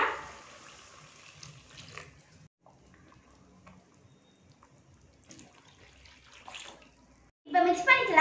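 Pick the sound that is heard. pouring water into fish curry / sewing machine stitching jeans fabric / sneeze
pouring water into fish curry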